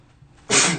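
A single sharp human sneeze bursts out loud and close after a brief quiet moment, with no talking.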